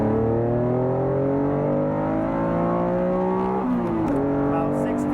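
A Honda NSX with JDM gearing accelerates hard in second gear, its engine note climbing steadily and loud throughout, with a brief dip partway through before the pitch rises again.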